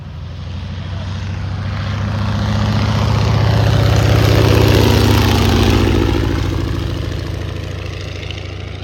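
A PT-17 biplane's radial engine throttled back on a landing approach at a historic aviation weekend, a steady low droning hum that swells as it passes closer and then fades slightly, with no voices.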